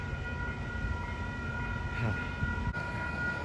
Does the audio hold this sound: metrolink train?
yes